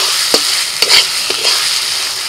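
Paste of dried chili, black pepper and cumin sizzling in a hot pan, a continuous fry hiss broken by a few sharp scraping stirs of a spoon, close and fairly loud.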